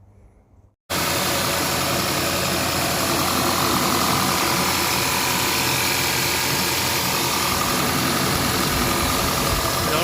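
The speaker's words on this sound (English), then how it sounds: "start your engine and make sure you don't have any oil leaks" A first-generation Audi Q5 with the 2.0T engine starts up and idles steadily after a PCV valve and oil separator replacement, a loud, close, continuous hum that begins after a short quiet moment and carries on alone.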